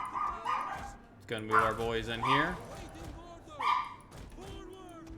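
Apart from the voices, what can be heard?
dog barking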